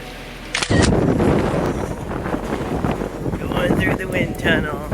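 Strong gusts buffet a microphone outdoors, a heavy low rumble that swells and surges continuously after a brief quieter opening, loud and close, with no clear speech.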